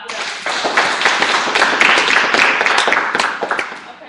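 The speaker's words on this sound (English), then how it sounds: "Clap it up." Audience clapping at a Herbalife University event, a dense, steady burst of many hands lasting several seconds, loud and close, filling the room without pause.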